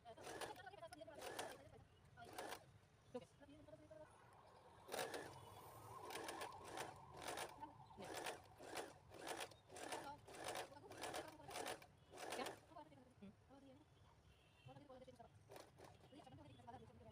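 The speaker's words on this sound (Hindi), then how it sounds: "ये देखो इस तरह से मैंने ये तीनों साइड स्टिचिंग कर ली हूँ।" A sewing machine stitches a newborn baby cap in repeated short whirring runs separated by brief pauses, close and moderately loud, with someone talking quietly between bursts.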